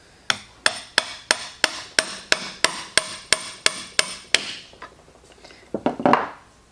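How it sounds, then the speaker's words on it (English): A hammer drives a gear onto the shaft of a Triumph 650 engine in a dozen sharp, evenly spaced metallic blows, followed by a pause and a few quicker, duller taps. "you can hear the change in the note of the hammer when you're fully seated"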